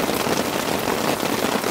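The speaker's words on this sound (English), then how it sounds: "I can't even hear myself thinking over this rain. It's so heavy." Heavy rain pours steadily onto a camping tent, a dense, loud, even hiss of drops with no pauses and no voices.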